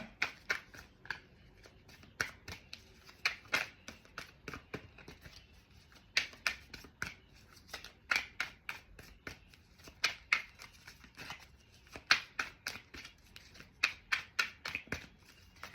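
Tarot cards being shuffled and pulled by hand, a steady run of crisp, close riffling snaps and flicks in quick bursts with short pauses, no voice over them.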